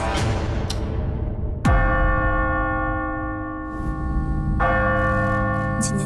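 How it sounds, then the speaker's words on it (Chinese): A bell tolls at midnight with several heavy strikes. Each one rings out loudly and hums on in a long, shimmering decay. "当午夜钟声敲响的时候"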